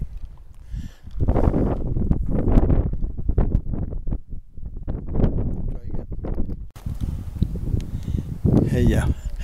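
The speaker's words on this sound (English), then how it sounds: "Sorry about the wind." Gusty wind buffets the microphone in low rumbling bursts at Santa Cruz Lake, New Mexico, while a person talks over it throughout.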